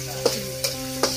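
Pieces of basa fish fry in a pan with a soft, constant sizzle while a utensil strikes the pan three times at a regular pace, each a crisp close metallic tap.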